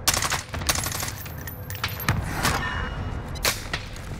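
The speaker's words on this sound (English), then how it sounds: "The guy is on the roof shooting." Gunfire in Call of Duty: Warzone on Rebirth Island, with sharp rapid cracks and short bursts, some near and some farther off, over steady loud game ambience.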